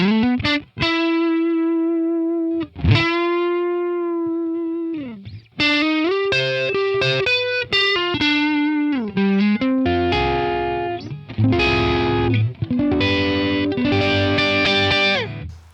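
Distorted electric guitar on the neck pickup with a warm, rounded tone plays sustained notes and bends, then quicker phrases and chords, loud and alone.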